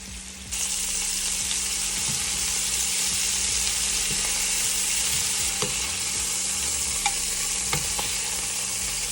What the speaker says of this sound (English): I'm just going to brown them on all of the sides